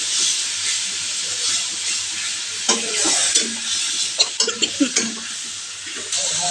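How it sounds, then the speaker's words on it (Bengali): Spice paste sizzles and fries in a pan while being stirred, a steady loud hiss broken by a run of sharp spatula scrapes and pops near the end. "মশলাটাকে বিছিয়ে নিয়ে একটুখানি কষিয়ে নেবো"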